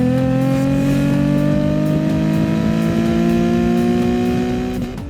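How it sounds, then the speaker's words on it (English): A small-displacement, multi-cylinder 1990s car engine with a short-stroke, high-revving design, held at a loud, steady high-rpm scream with rising harmonics, close and continuous for about five seconds before easing slightly at the end. "trust me, it sounds like a racing engine"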